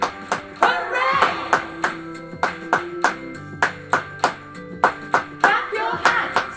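Hands clap in a rhythmic pattern during a music lesson for young schoolchildren, sharp repeated claps grouped in bursts with short pauses, fairly close, with faint musical tones underneath.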